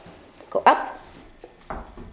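A dog in a play and training session gives a couple of short, sharp barks or yips close by, with a brief pause between them.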